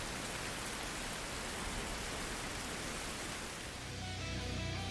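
Heavy rain in the video game Survival: Fountain of Youth, a dense, constant hiss of falling drops that fills the whole stretch without a break.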